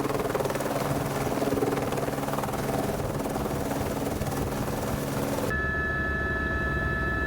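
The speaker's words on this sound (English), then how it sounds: "helicopters are very noisy machines indeed" A helicopter engine runs loud and steady for a glacier shuttle flight at Fox Glacier, New Zealand, with a dense rumbling drone that cuts abruptly to a quieter whine near the end. No one speaks.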